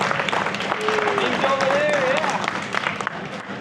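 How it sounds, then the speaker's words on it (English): Audience applause for the organizers at a cycling convention, brisk clapping for a few seconds with voices and a high whistling tone over it, fading toward the end. "And that's worth a big applause."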